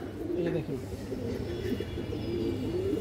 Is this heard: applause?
no